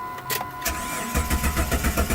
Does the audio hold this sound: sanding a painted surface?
no